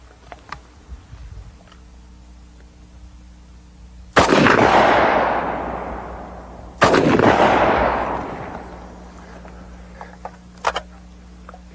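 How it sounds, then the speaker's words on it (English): Two sharp, loud rifle shots from standard .308 ball ammunition fired at a car's gas tank ring out outdoors about three seconds apart, each cracking and then rolling away in a long echoing decay. "We're going to use ball, standard 308 ball, and we're also going to use ball 308 tracer."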